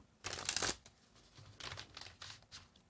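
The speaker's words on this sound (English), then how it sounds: "Another shuffle, they say." Tarot cards being shuffled in short bursts: a loud riffling burst near the start, then several softer shuffling bursts that follow, close by with no talking.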